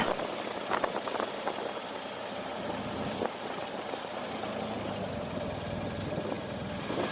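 A motorcycle engine idles steadily at the Rumichaca international bridge border crossing into Ecuador, a continuous low rumble under broadband traffic and wind noise, with no talking.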